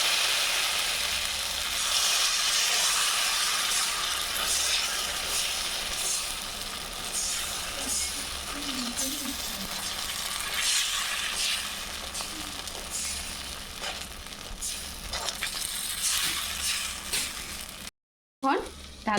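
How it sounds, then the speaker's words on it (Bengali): Semolina batter sizzling in hot white oil in a pan while making sooji pitha, a steady close crackle and hiss that runs throughout, with a brief clatter near the end. "তেল গরম হয়ে গেলে তাতে আমি ফেটিয়ে রাখা সুজির মিশ্রণ দিয়ে দেব।"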